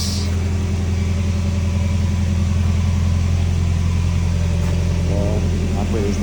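A 2003 Toyota Tacoma engine idles with a steady, low rumbling hum close by, holding an even pitch throughout with no revving.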